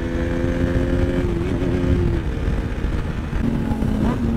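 A superbike passes on a road with a loud, close engine roar whose pitch climbs and dips as it revs past. It holds steady for about four seconds without a break.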